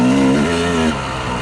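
A dirt bike engine on a narrow wooded trail in winter holds a loud, close, steady drone, its pitch sliding slightly and dropping near the end, with no voices.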